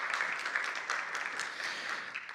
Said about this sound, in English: Another round of applause for Brandon, everybody.